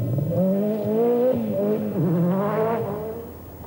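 A Ford RS200 rally car engine climbs through the revs on a 1986 Scottish Rally stage, loud and close, with rising harmonics, a dip as it shifts, then climbing again before fading.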